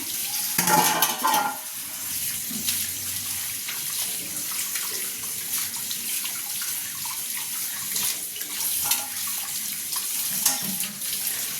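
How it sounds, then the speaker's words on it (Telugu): Fish being washed under running tap water in a kitchen sink, a steady splashing stream with occasional clinks of a bowl or utensils, close and continuous without speech. "ఫస్ట్ నీళ్ళతో కడుక్కొని తర్వాత ఉప్పు వేసుకొని కడుక్కున్నాం"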